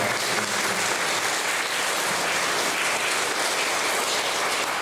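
Congregation in a church sanctuary at a 100th anniversary service applauds their pastor for building the new sanctuary, a dense, steady wash of many hands clapping throughout, loud and close, with no voices over it.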